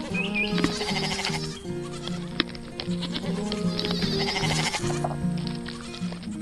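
Goats bleating in their pen at a farm with a red barn and tall windmill, several wavering, tonal bleats overlapping in close succession, loud and near against a busy musical background.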